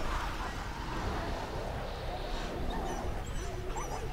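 German Shepherd dogs whimper and yip in the video game Beyond: Two Souls, faint high cries rising over a dense, steady wash of game noise, with a few brief whines near the end.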